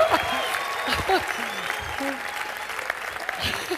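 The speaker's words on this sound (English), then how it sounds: "Come on, somebody need to clap for the revelation." Clapping from a church congregation at a prophetic service fills the space, steady and moderately loud, with scattered voices and vocal sounds rising over it.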